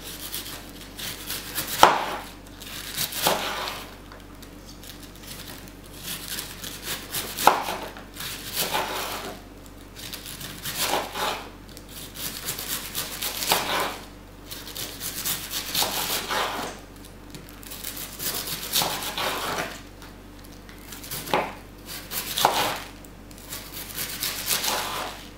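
A knife chopping red cabbage into strips for coleslaw on a cutting board, close, repeated bursts of crisp slicing strokes with short pauses between, no talking.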